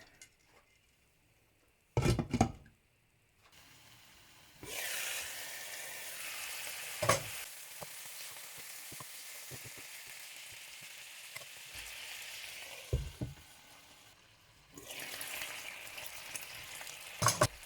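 Pork adobo with lots of garlic frying in a pan, a steady close sizzle that swells and fades as the lid is lifted and replaced, with a few sharp clanks of utensils against the pan and no talking.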